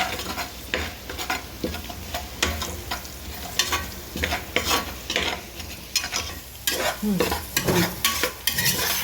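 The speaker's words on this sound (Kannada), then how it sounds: "ಈರುಳ್ಳಿ ಕ್ಯಾರೆಟು ಮತ್ತು ಬಟಾಣಿ ಕಾಳು ಒಟ್ಟಿಗೆ ಮಿಕ್ಸ್ ಮಾಡೀನಿ" Onion, carrot and peas stirred and fried together in a pan for wedding-style tomato bath, with steady sizzling and repeated scraping stirs of a spoon against the pan, close and fairly loud with no talking.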